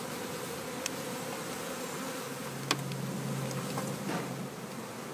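Honeybees buzzing steadily throughout, a continuous low hum with a few faint clicks and knocks, no voices.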